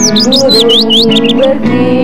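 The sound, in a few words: birds chirping at sunrise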